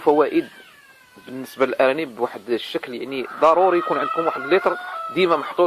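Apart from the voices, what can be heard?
chickens clucking while laying eggs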